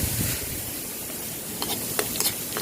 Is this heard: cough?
no